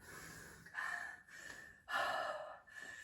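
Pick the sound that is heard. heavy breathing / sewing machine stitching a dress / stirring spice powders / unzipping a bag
heavy breathing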